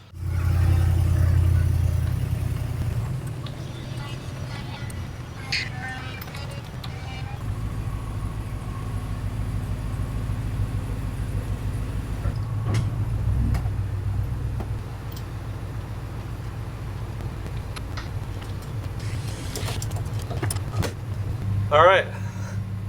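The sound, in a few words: vehicle towing a cabin on a trailer on test drive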